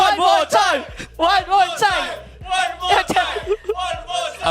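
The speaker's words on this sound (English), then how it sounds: "The crowd is raving as much as I want to see him going one more time." Rowdy esports event crowd shouting and chanting in rhythmic bursts, several loud voices bellowing together up close with pauses between repeated calls.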